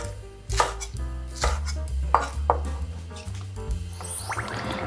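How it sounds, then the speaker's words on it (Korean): A knife roughly chops green onion (daepa) on a cutting board for braised kimchi. Around six firm, close chops land in an uneven rhythm over a low background hum, and no one talks. "듬성듬성 썰어주세요"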